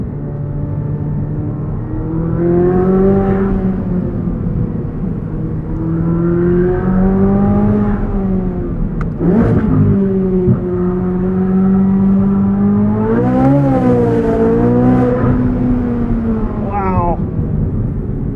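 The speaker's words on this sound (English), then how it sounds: "You can tell they just spent years perfecting and tuning this exhaust." A 2023 Chevrolet Corvette Z06 exhaust drones loudly from up close while driving, its engine note rising and falling through several revs and gear changes, with a sharper surge near the end.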